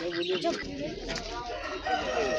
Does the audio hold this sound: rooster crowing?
yes